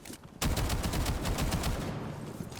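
DMR rifle fire in Rainbow Six Siege cracks out as a rapid string of loud, sharp shots, several closely spaced reports following a brief quiet start.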